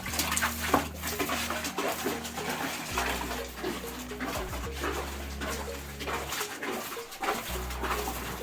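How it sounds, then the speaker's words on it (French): Water sprays steadily inside a chicken coop, wetting the wood shavings with a continuous hiss and splash, while birds call faintly nearby. "Après, vous prenez de l'eau. Vous allez asperger ça dans le poulailler."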